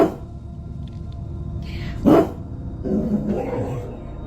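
A dog gives a single sharp, loud bark near the middle, with muffled low rumbling and murmuring around it in an eerie, dim setting.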